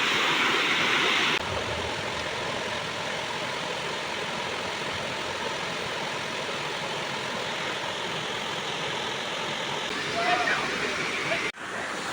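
A Kodaikanal waterfall roars steadily and close, a broad continuous rush of falling water with a brief louder burst near the end, and no talk over it.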